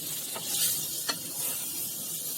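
Stuffed okra (bhindi) frying in a pan, a steady close sizzle broken by two quick scraping stirs.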